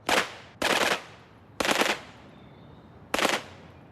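Sten submachine gun, a simple wartime design, firing four sharp automatic bursts separated by short pauses, loud and close, each burst a rapid rattle of shots with no speech.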